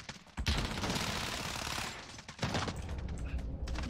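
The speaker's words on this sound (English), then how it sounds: "Taking effective fire." Rapid automatic gunfire in Call of Duty, a dense rattling burst that runs for about two seconds, pauses briefly, then resumes with more scattered shots, all fairly close and heavy, with no talking.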